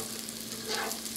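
Vegetables for egg fried rice frying in a pan, a brief steady sizzling hiss close up with no voice.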